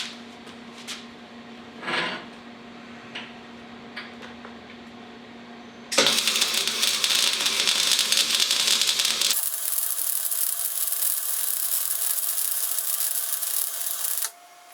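Home MIG wire-feed welder running 0.095 wire on its highest voltage setting with the wire feed near 6.5 lays a bead: a steady, close, loud frying hiss lasting about eight seconds after a quiet start, then stopping abruptly.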